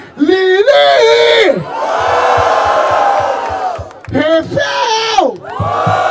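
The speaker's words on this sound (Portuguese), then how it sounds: "Barulho para as rimas de Lili" A crowd at a Brazilian street rap battle roars, whoops and shouts loudly in support of a rapper, a dense sustained cheer swelling and breaking between bursts of yelling and a host's voice.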